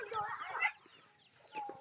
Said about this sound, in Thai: น้องๆเพิ่นมาตีไก่